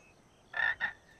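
A frog gives two short, close croaks in quick succession against quiet background.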